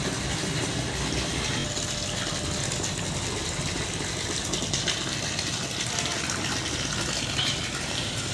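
Savlon disinfectant solution is sprayed over the litter area of a poultry farm, a loud continuous hiss of spray with a rattling mechanical pump churning steadily underneath.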